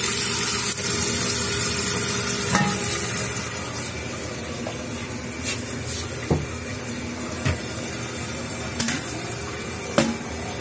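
A toilet tank refills with water while the flapper is open, a steady loud rush and hiss of running water with occasional clicks and knocks, close by and with no talk.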